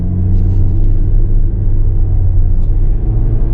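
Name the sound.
2024 Kia Soul S engine accelerating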